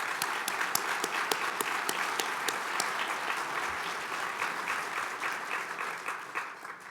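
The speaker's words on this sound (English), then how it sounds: "Let's give them a big round of applause." A large awards-ceremony audience breaks into loud, sustained applause, with dense, steady clapping that holds strong before gradually thinning toward the end.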